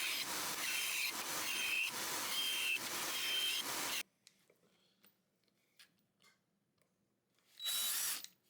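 A power drill bores holes into small hardwood offcut connectors in a workshop, with a loud whirring burst of about four seconds, a quiet gap, then a short second burst.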